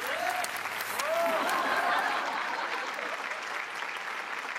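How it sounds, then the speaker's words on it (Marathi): An audience at a Marathi comedy show applauds to welcome a guest, with a burst of close, dense clapping that swells in the first two seconds and then thins out gradually, while a voice calls out briefly over it. "त्यांचं जोरदार टाळ्या वाजवून स्वागत करूया"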